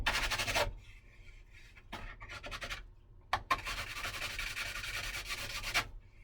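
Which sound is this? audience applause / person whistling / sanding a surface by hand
sanding a surface by hand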